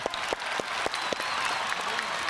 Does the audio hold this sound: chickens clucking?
no